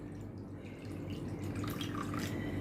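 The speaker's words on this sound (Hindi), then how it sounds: "इसमें मैं अभी ये 3/4 कटोरी पानी डालती हूँ।" Water is poured from a bowl into a kadhai for aam papad, about three-quarters of a bowl. It makes a soft, steady splashing trickle that is faint and continuous, with no talking.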